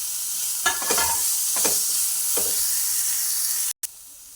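Cut tomato pieces sizzling in a hot pan for a morning tiffin, a loud steady hiss broken by a few scraping stirs of the spoon, close up and with no voices.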